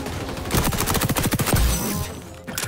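In the shooter game XDefiant, an SMG fires one rapid, loud burst of tightly spaced shots lasting about a second and a half.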